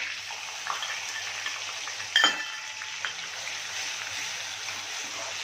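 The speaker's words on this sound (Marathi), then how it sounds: "अगोदर जे कांद्याचं वाटण तयार करून घेतलं ते याच्यामध्ये टाकते" Onion paste with a bay leaf, cinnamon and clove fries in oil, a soft, steady sizzle with a sharp metallic clink and brief scraping near the middle, fairly quiet and close.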